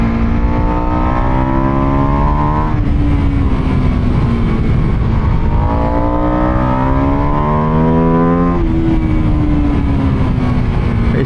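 A Buell Super Cruiser motorcycle ridden in first gear at Sturgis, its engine loud and close, revving up through repeated rising pulls and easing between them under steady wind roar, with no talking.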